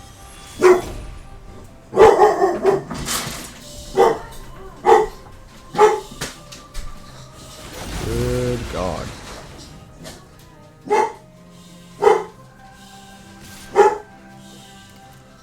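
Dogs barking in a Magic: The Gathering video game: about eight short, sharp barks come singly and in quick pairs, spaced across the stretch, with a brief spoken exclamation and a murky swell of other sound in between.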